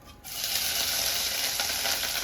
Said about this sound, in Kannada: ಇದು ಕುಟ್ಕೊಂಡಿರೋ ಅಂತೆಲ್ಲ ಪೇಸ್ಟ್ ಎಲ್ಲ ಇದರಲ್ಲಿ ಆಯಿಲಲ್ಲಿ ಹಾಕಬೇಕು